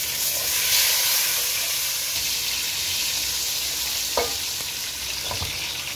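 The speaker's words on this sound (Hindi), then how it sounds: "इसमें हम प्याज ऐड कर देंगे" Chopped onions sizzle and hiss steadily as they fry in a hot pan for zeera rice, with a couple of brief spoon-stirring clatters near the end and no talking.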